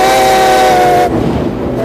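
Steam locomotive whistle sounding loud and close in one sustained harmonic blast for about a second, then cutting off into the rumble of the passing train.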